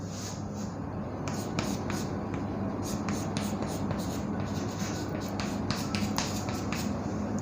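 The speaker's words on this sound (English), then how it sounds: "I write it down." Pen or chalk writing during an economics lecture comes through as a series of short scratchy strokes in quick irregular bursts over a steady low hum, with no talking.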